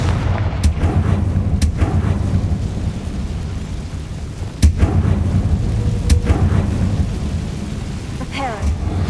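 The Confringo fire blast spell in Hogwarts Legacy goes off as loud booming blasts with sharp cracks, set over constant low rumbling game ambience.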